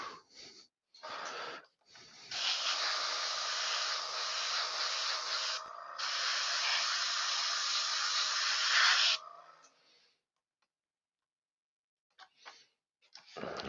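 Airbrush spraying paint for model weathering, a steady broadband hiss lasting about seven seconds with a brief dip partway, close and fairly loud, then quiet with faint sounds at the end.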